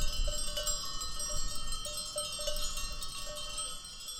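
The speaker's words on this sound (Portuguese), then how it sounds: "Os chocalhos são uma espécie de sino que se coloca nos animais que ainda pastam livremente" Chocalhos, livestock bells worn by animals grazing freely in rural Alentejo, clank in scattered irregular knocks, fairly faint, over a steady open-air background hiss.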